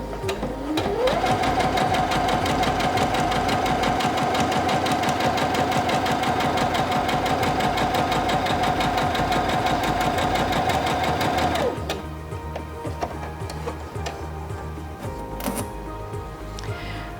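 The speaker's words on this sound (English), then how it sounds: "step on the foot control to start sewing" A Singer Featherweight C240 sewing machine stitching fabric, a loud steady rapid whirring and clatter with a motor whine that runs for about ten seconds and then stops, leaving quieter handling clicks.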